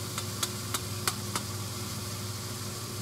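Butter being stirred into a mushroom risotto in a pan, with a steady low sizzle and bubbling throughout and about five light, evenly spaced spoon taps or scrapes against the pan.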